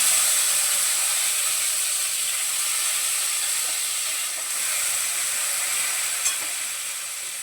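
Cumin seeds and fresh coriander sizzle loudly in hot oil in a pan, a continuous close frying hiss with one brief clink near the end.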